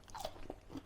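Crispy air-fried food from a budget air fryer bitten into up close, giving a few short crunches in quick succession with no talking.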